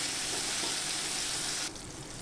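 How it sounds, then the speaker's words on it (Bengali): Tomato and ginger frying in a pan on a low gas flame, a continuous soft, even sizzle with no voices, dropping slightly quieter near the end. "এবারে টমেটোটা আদাটা একটু গ্যাসটাকে লো ফ্লেমে দেবো, দিয়ে আমি একটু ভাজতে থাকবো"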